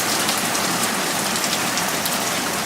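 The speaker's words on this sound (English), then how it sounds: "and it's still raining." Steady, heavy rain patters densely on surfaces, a constant close hiss of drops with no voices.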